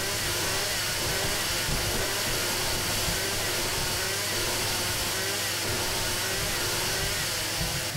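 A motorized auger digs through terrain in the survival game 7 Days to Die, giving a steady, loud, engine-like whirring drone that holds without a break from start to finish.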